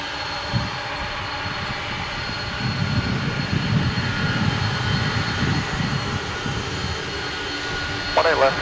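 A jet airliner departing DFW International Airport, a steady broad engine roar at a distance that holds and swells slightly, with a voice talking over it.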